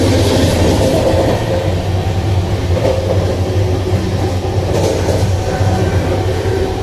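Heard from inside a coach of the Howrah–Chennai superfast mail train while it runs: a loud, constant low rumble with steady wheel and carriage noise throughout, and no voices.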